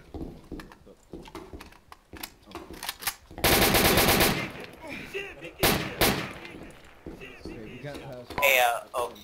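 Bursts of automatic gunfire in the ArmA 2 military shooter during a night operation, loud rapid volleys around the middle and near the end, mixed with players talking over voice chat.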